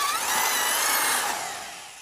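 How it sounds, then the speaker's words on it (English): A drill whirs in a single continuous high-pitched burst of about two seconds, loud and close, then tapers off slightly at the end. "I need a sound of a drill when we talk about fixing movies."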